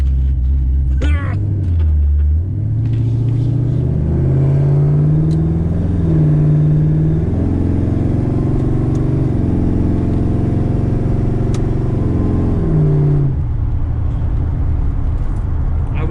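LS-swapped C4 Corvette with a big cam pulling away, its loud, close exhaust rumbling and revving up through gears in a steady, throaty drone before easing off near the end.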